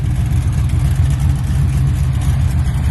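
An Oldsmobile Cutlass exhaust fitted with Flowmaster FX mufflers rumbles steadily nearby, with a deep, throaty, continuous drone and no talking.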